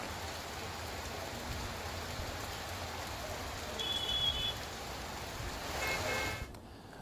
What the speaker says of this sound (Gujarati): શામળાજીમાં ધોધમાર વરસાદ વરસ્યો છે